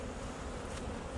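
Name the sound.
bees buzzing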